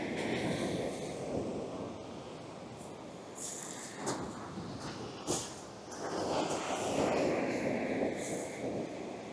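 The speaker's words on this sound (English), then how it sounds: "Look at those waves!" Broad rushing surf washes continuously onto a shoreline during fishing, with gusts of wind buffeting the microphone and a few sharper crashes as waves break nearby.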